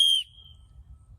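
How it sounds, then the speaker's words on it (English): Survival-kit emergency whistle blown once in a short, piercing shrill blast that cuts off abruptly, leaving only faint low background rumble. "That whistle will definitely alert somebody that you are around"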